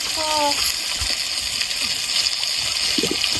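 Water is poured over a little girl being bathed by her older sister, a soft splashing gush under steady outdoor background noise, with a few faint bird-like chirps and no clear speech.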